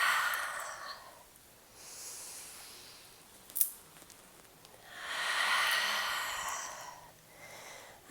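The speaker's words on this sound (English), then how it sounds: "Inhale, take it nice and long. And exhale, let it go." Slow, deep yoga breathing in a postpartum session, a long airy inhale followed by a long, steady exhale, close and soft, with a brief sharp click between them.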